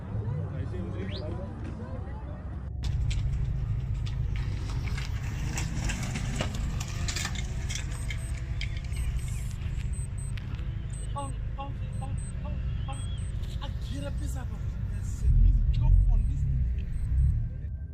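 A BMW M3 races in an illegal street race on a public road, its engine a constant loud, low rumble that swells near the end, with people talking excitedly over it.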